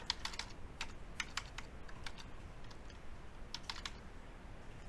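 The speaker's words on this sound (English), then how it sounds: "Or I can start typing the city." Quick bursts of light clicking keystrokes on a computer keyboard as a city name is typed into trucking broker software, soft and close in a quiet room, with short pauses between clusters of taps.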